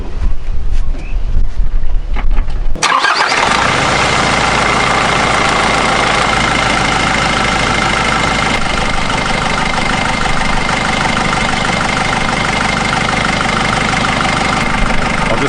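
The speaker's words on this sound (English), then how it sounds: "We'll fire it up, cap off, start it and warm it up." Nissan Navara YD25 diesel engine with the coolant cap off fires up after a moment of handling noise, then settles into a steady, loud, rumbling idle with some wind buffeting on the microphone.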